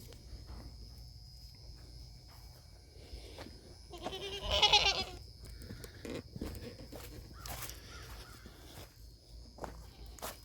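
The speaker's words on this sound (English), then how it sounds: "Daggum goat." Goats on a farm bleat in a short burst of close, loud cries midway through, set against shuffling hooves and footsteps. A few fainter bleats follow, over a quiet outdoor background.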